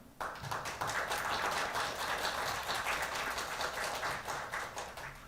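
An audience at a disability human rights forum applauds after a speaker finishes, with dense, sustained clapping from many hands in a hall, steady throughout and tapering slightly at the end.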